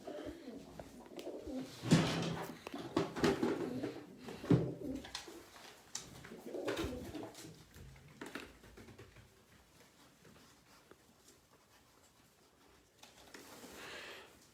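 Twenty-four pigeons coo nearby in soft, repeated throaty calls, with light fluttering and shuffling; the birds grow quieter toward the end.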